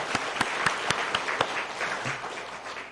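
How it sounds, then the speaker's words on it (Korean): A church congregation at a Sunday morning service claps loudly, with sharp distinct claps standing out over a continuous wash of applause. "큰 소리 치면서 박수 한번 치겠습니다."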